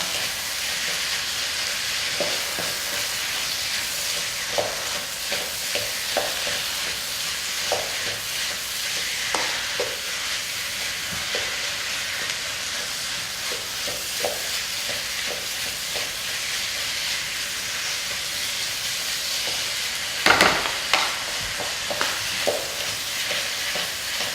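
Ground beef browns in a pan with a constant crackling sizzle, broken by soft stirring scrapes and one louder clank near the end.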